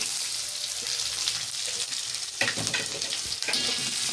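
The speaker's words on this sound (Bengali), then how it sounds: "এই পেঁয়াজ রসুন সব ভেজে নিচ্ছি।" Green chilli, onion and garlic fry in a pan with a steady, close sizzle, and sharper crackling bursts break through near the middle and again toward the end.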